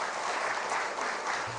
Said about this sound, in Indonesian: tepuk tangan untuk Pak Presiden